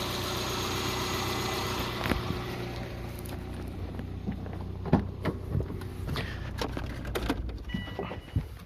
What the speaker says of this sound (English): It's been idling here for a couple minutes